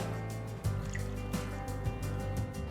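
Water pours into a cooking pot of vegetable stock for khara bath, with a soft continuous trickle and a few splashes, under a steady low hum.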